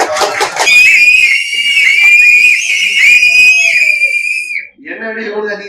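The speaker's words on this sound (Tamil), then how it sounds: "என்ன எவ்வளவு அதிகமா விசில் அடிக்கிறீங்க?" A crowd of fans at a film promotion press meet in Madurai whistles loudly and shrilly in long, piercing blasts mixed with screams, then trails off into quieter cheering.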